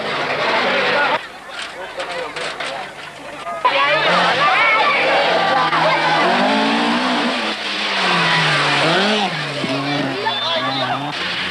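Group B rally cars from the 1985 World Rally Championship accelerate and rev hard as they pass, their engine notes rising and falling over several seconds, with a commentator talking throughout.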